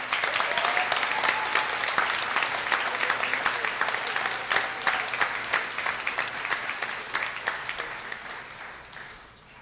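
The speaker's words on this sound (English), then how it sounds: "Could we have a round of applause for our four major award winners?" A convocation crowd gives sustained applause for award winners, dense clapping filling the hall and slowly thinning toward the end.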